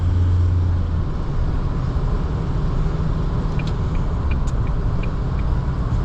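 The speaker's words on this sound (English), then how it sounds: "The engine is quite audible, the same as the Dmax. You hear it quite a bit when you're driving" A 2022 Mazda BT50 4x2 pickup's diesel engine while driving, a steady low drone and rumble with road noise inside the cabin, constant and loud with no voices.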